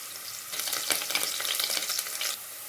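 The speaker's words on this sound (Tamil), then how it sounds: "கொஞ்சம் எண்ணெய் சேர்த்துக்கலாம் கட் பண்ண பெரிய வெங்காயம் சேர்த்துக்கலாம் கருவேப்பிலை சேர்த்துக்கலாம்" Sliced big onions and curry leaves frying in oil in a pressure cooker, a close, lively crackling sizzle with bursts of stirring that stops near the end and no voices.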